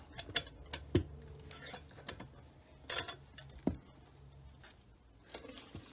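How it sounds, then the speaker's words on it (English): A bench vise is cranked tight around a part, giving faint, irregular metallic clicks and ratcheting ticks at close range in a quiet workshop. "Tighten the vise down so it doesn't move."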